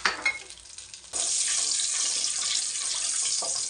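Whole spices of two cloves, a piece of cinnamon and three peppercorns hit a hot pan with a sudden sizzle after a quiet opening, then keep frying in a steady, close hiss.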